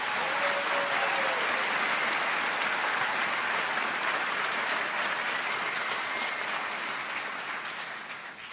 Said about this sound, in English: Please join me in another round of applause for these outstanding musicians.